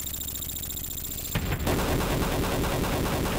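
Helicopter machine guns firing in the video game Desert Strike: Return to the Gulf, a loud continuous stream of rapid gunfire breaking in partway through over steady game background noise.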